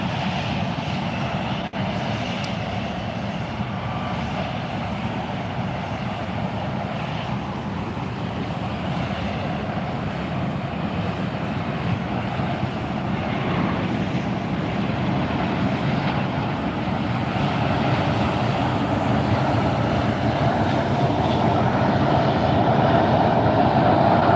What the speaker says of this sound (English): This is United Airlines 1613, headed off to Denver